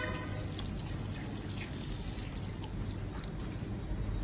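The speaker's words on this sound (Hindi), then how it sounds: "2 ग्लास के करीब इसमें पानी शामिल करेंगे।" Water pours steadily into a pressure cooker, a continuous splashing rush with no pauses, fairly close.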